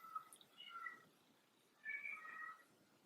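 A cat screams outside a door in two drawn-out, wailing yowls separated by a short pause, faint and somewhat muffled, with no voices over them.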